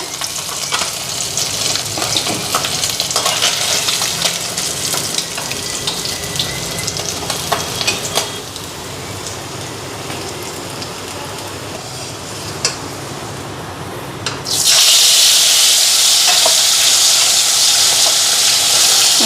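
Fish fry in a pan with a steady crackling sizzle and stirring, easing somewhat midway before a sudden loud hiss of steam and spattering oil takes over near the end.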